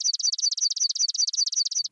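A recording of a swamp sparrow song plays as a fast, even trill of about twenty sharp, high notes, repeated at a steady rhythm, clear and close, with no other sound.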